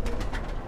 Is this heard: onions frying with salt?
no